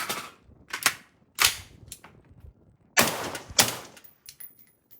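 Suppressed .223 rifle shots from a B&T APC fitted with a B&T Print-X suppressor crack out in sharp, loud reports, roughly six shots fired in uneven pairs with short gaps between them.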